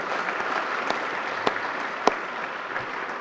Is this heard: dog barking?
no